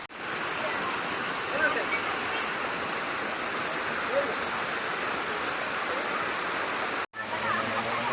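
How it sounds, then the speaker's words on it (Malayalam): Continuous broadband rush of the Chelikuzhi waterfall at Kalleli, Konni, Kerala, close and steady, with a brief cut near the end before the roar resumes. "ഇതാണ് കേട്ടോ കോന്നിയിലെ കല്ലേലി എന്ന് പറഞ്ഞ സ്ഥലത്തെ ചെളിക്കുഴി വാട്ടർഫോൾ"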